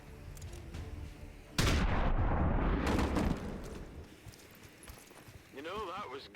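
Shotgun blast in the XCOM 2 video game, Long War of the Chosen mod: a single loud booming discharge that rings out for about a second and a half before fading, with a voice talking before and after.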